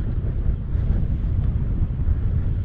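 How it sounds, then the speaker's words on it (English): Strong wind gusting by the water at high tide on a kayak outing, a loud continuous low roar of wind buffeting the microphone with no talk. "And the wind is supposed to be picking up."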